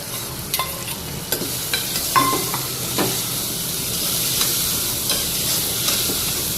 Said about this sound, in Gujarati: હવે ડુંગળી એડ કરી દેવાની